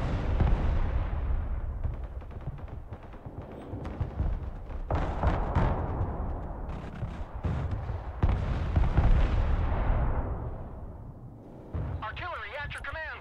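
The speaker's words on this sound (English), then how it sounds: "so artillery's firing on it now" Artillery firing in the Broken Arrow combat game, with dense rumbling blasts and crackling impacts rolling continuously, loud and close, under ongoing voice chatter.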